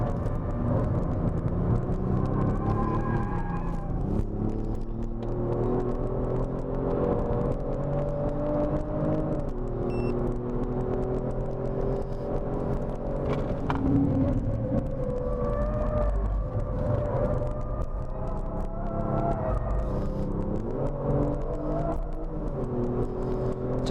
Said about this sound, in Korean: 지금 이제 어느 정도 시간이 지나니까 제 멋대로 다운시프트, 업시프트가 일어납니다